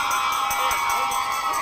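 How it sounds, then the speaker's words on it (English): An audience at an education awards ceremony cheers and shouts in a steady, loud roar, with sharp claps and whoops cutting through the crowd noise. "I'll see if we can get them a cheer"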